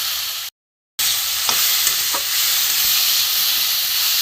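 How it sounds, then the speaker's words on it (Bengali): Ash gourd fries in a pan with a steady, close hissing sizzle, broken once by a short dropout, while a few faint stirring scrapes sound over it and no one speaks. "একটু ভালো করে ভেজে নেবো এটা।"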